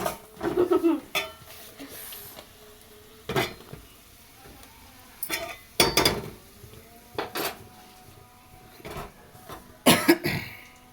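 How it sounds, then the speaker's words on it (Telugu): Crumbled leftover idli being stirred in a pan for idli upma, with scraping spoon strokes and clinks against the metal in irregular bursts, faint sizzling between them, and a few coughs. "ఇప్పుడైతే దీన్ని మొత్తం కలిసేదాకా మంచిగా కలుపుకుందాం"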